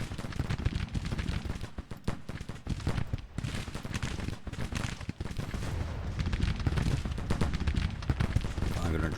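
Dense, continuous barrage of artillery and gunfire from a Civil War battle video game, booming shots packed closely together across the whole stretch with a voice talking underneath.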